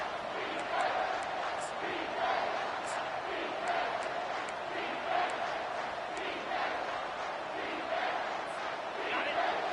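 Stadium crowd in the NCAA 25 college football video game roars steadily through a third-down defensive stand, a dense sustained wall of voices with rhythmic swells of chanting, heard at a distance and moderately loud.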